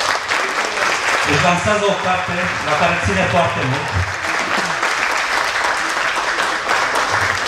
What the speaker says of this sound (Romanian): vreau să o primiți cu aplauze pe scenă